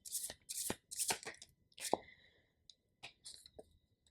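Tarot cards shuffled by hand in several quick riffling bursts, close and crisp, with short pauses and a few light taps between them.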